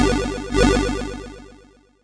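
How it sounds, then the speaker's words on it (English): Chiptune-style 8-bit synth lead drenched in wide, soft chorus-laden reverb, a run of quick notes that ends and then trails off in a long, fading tail. "Push the chorus all the way up so we have a nice and wide and soft sounding reverb"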